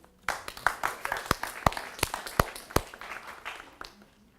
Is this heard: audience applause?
yes